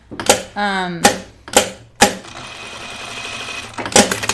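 A sewing machine stitches bias binding onto an apron in short separate bursts, close and loud, with a brief whirring run in the middle. No one speaks.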